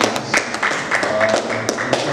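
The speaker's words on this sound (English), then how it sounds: "A round of applause for that." Applause from an audience at a talk on labour migration: a short stretch of scattered, uneven clapping, moderately close, with a few louder individual claps.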